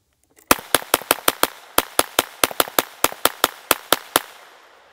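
A Tippmann .22LR Gatling gun fires a rapid string of about eighteen sharp, loud cracks in quick irregular bursts, close by, with no talking.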